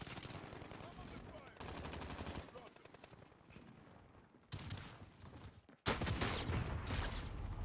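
Call of Duty match with rapid automatic gunfire in bursts, breaks between volleys, and a sharp loud blast near the end like a rocket launcher shot, with faint voices underneath.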